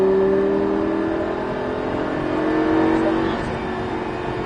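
Lamborghini LP560 engine accelerating hard on the Folembray race circuit, a loud, steady roar with a rising tone held close throughout.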